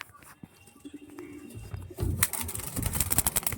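A pigeon for sale cooing and stirring, with low murmuring coos and rustling that build to busier flapping and scuffling near the end, close by and without talk.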